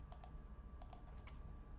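Keys on a computer keyboard clack in short irregular bursts of a few strokes each as code is typed, close and fairly quiet over a low background hum.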